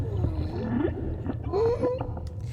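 Whale song with long rising and falling moaning calls, a few drawn-out tonal cries over a low watery rumble, heard alone without talk.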